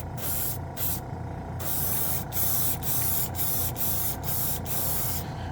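Steady hissing spray from a Gaahleri airbrush painting a model kit, running almost continuously with several very short pauses, close and fairly loud.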